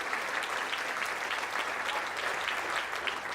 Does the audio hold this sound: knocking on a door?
no